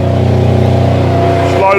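A mobile crushing machine's diesel engine revs steadily and loudly as its crusher and main conveyor run forward on a waste recycling site, with a low drone and a pitch shift near the end.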